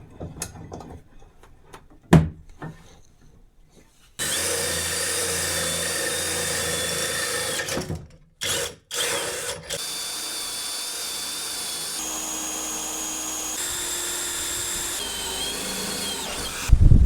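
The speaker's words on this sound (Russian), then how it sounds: "Сделать просто просверлить дырки." A power drill with a 6 mm bit bores holes for small 6 mm bolts during a home storage-room renovation: brief bursts of whirring at first, then a long steady high whine broken by short stops and restarts, close and loud.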